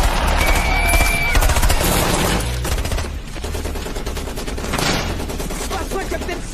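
Bursts of rapid gunfire from a war action film set between American and Somali forces crackle loudly and densely, mixed with movie sound effects and some background voices.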